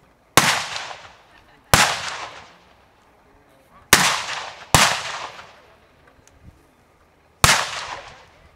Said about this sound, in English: You have to fire 5 rounds at the figure 11 target to your front.